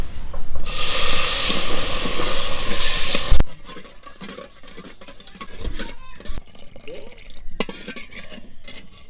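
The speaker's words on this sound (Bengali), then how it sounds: "এবার দুধটা দিয়ে দেব।" Milk pours into a pan for homemade ice cream, a dense steady hissing rush lasting a few seconds that cuts off abruptly, followed by quieter clinks and stirring handling sounds.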